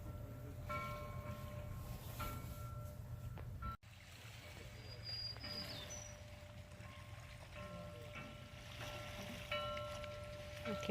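A harbor buoy bell at Bass Harbor clangs several times at uneven intervals over the steady wash of water and a low engine rumble, distant and resonant.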